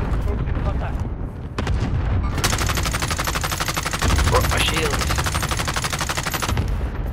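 A cluster strike in the battle royale game Call of Duty: Warzone rains rapid, rolling explosions and heavy gunfire-like bursts for several seconds, loud and dense, while players talk over the barrage.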